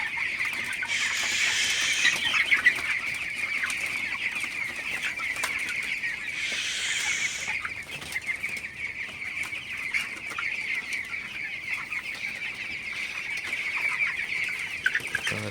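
Broiler chickens in a raised-floor shed keep up a constant dense chorus of clucking and cheeping, with a couple of louder bursts of squawking and wing noise early on; no talk.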